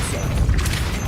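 A Depulso spell goes off in Hogwarts Legacy as a short, loud burst of rushing, booming noise lasting about a second.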